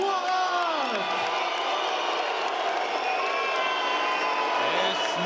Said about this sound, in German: Viel Applaus in die Pfiffe der Böse-Fans